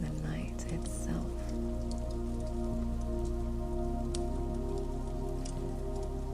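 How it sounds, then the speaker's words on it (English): Rain falls steadily around a cabin in the woods, a dense even patter with scattered sharper drops, close and constant throughout. "You listen to the way the rain has changed. It's softer now"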